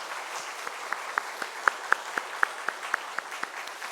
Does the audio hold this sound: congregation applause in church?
yes